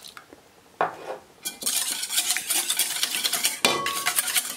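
Eggs being stirred into a chocolate mixture in a bowl, starting with a few separate clinks and then settling into a continuous run of rhythmic scraping and clattering of a utensil against the bowl, close and fairly loud.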